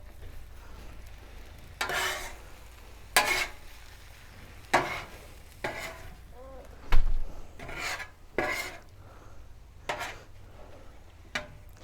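Mexican street corn and pico being mixed on a Blackstone griddle, giving repeated scraping, rasping strokes of a spatula across the hot steel, spaced a second or two apart over a soft sizzle, close and fairly clear.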